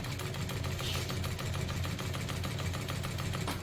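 A Sunstar KM-D1640BL-7K sewing machine stitching, a steady close mechanical whir with a fast, even needle rhythm running unbroken throughout, no voices.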